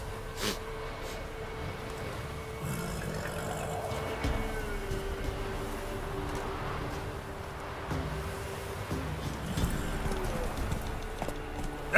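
Roach, the horse in The Witcher 3, gallops with a steady, fairly close clip-clop of hooves that runs the whole time over low rumbling ambience.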